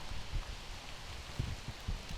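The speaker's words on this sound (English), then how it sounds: "The rain is really starting to come down here." Rain comes down steadily over an outdoor disc golf course during a tournament round, a soft continuous hiss of drops with a few dull pats, and no voices.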